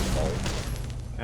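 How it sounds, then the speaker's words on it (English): A grenade explodes in a modded Fallout 4 firefight, a dense, roaring blast that fills the short moment amid crackling gunfire, with a voice talking over it. "That's a grenade."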